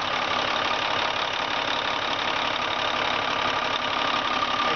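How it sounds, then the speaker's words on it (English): A Cummins diesel engine in a 1998 Freightliner day cab truck idles steadily, a loud, even rumble with a faint ticking knock, close by and without any talking. "I'm going to go ahead and fire up the engine and let you hear this Cummins purr."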